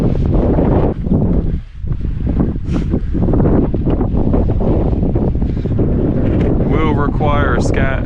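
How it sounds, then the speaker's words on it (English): Strong gusting wind buffets the microphone on the exposed Crib Goch mountain ridge, a loud, continuous roar with brief lulls, and a voice briefly rises near the end. "The wind's blowing this way."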